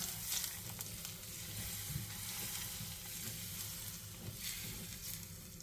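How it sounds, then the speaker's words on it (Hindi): Ghee crackling and sizzling in a pan while making traditional Delhi-style khoya rice, a steady close frying hiss with a few brighter pops and no voices. "तो अब ये जैसे ही कड़कड़ाता है घी"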